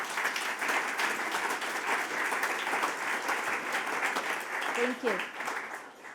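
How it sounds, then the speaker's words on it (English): An audience at a Dutch political discussion event applauds in a steady, sustained wash of clapping, with a voice briefly speaking through it near the end. "please, let's give them a big applause"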